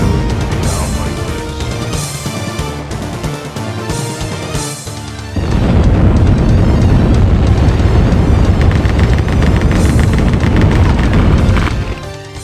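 Gunfire and explosions from the first-person shooter game Rise of the Triad, a loud, dense wall of booming blasts over a driving game soundtrack that surges even louder midway through.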